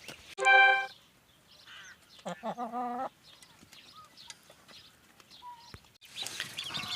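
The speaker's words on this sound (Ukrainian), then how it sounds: "По каченяткам і гусеняткам. Є п'ятеро гусеняток." Five goslings and ducklings peep and chirp in short bursts, with a couple of louder calls standing out against a quiet, scratchy background.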